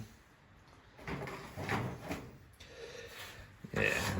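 A drawer on a 34-inch SCA toolbox and trolley combination slides open and shut several times, with short scraping and clunking bursts close by, while someone talks over it.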